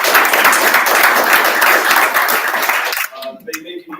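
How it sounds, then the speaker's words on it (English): Audience at an energy conference gives a dense, loud round of applause that fills the room for about three seconds, then cuts off as a speaker starts talking. "Quick round of applause for organizing this event."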